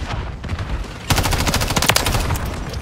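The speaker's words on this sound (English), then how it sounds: "I'm gonna show you a series of clips demonstrating how good this gun really is in action" Rapid automatic fire from an MTZ 556 rifle in Call of Duty: Modern Warfare 3, a loud sustained burst starting about a third of the way in after quieter background game sound.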